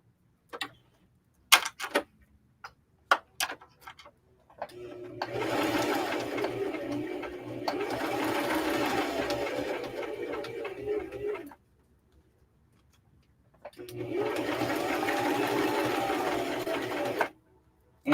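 A sewing machine stitching a sweatshirt hoodie runs in two long steady bursts of whirring, separated by a pause, with scattered clicks and taps of handling the fabric before the first run.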